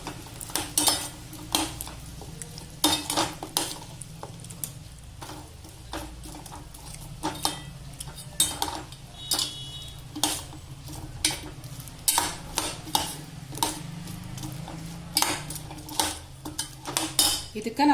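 Fried maida dough balls for gulladaki undi are mixed in a metal pot, a long run of close clattering scrapes and knocks from a spoon against metal, irregular and busy, with a faint sizzle underneath.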